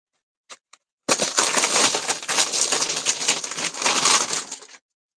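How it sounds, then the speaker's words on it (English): Crinkly wrapping being torn and pulled off a purchased item, a loud, continuous crackling rustle close by that runs for several seconds after two brief taps. "Let me unwrap it here."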